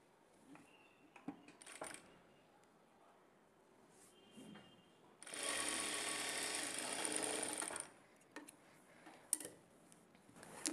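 Sewing machine stitching a half-inch seam on blouse fabric. A steady whirring burst of stitching runs for a few seconds mid-clip, set between quiet handling clicks and taps.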